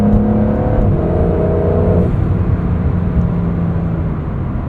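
A 2025 Porsche 911 GTS (992.2) hums with loud, close turbocharged engine drone that steps down as the driver lifts off throttle, leaving a softer whirring tone and settling cabin rumble.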